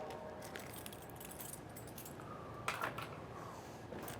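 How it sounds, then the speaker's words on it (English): A set of keys jangles at the main entry door of a 2021 Airstream Globetrotter 25FB travel trailer, a soft, continuous metallic rattle with a brighter clink near the middle, heard alone against a steady background hiss. "Now, we'll grab a set of keys"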